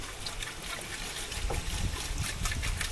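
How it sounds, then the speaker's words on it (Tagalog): Water splashes and trickles into a cooking pot holding taro, jackfruit and saba banana for ginataang gabi, a steady, hissing pour at close range with no talk over it. "At po nilalagyan ng tubig."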